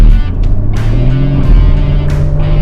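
A 2015 Porsche Cayman 2.7 PDK 981 in sport mode accelerating hard, its engine tone rising steadily through gears with brief shift breaks, loud and close from inside the cabin.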